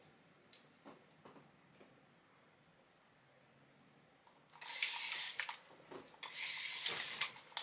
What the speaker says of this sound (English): It's all right, Juju, it's only water.